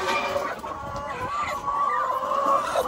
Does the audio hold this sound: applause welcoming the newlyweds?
no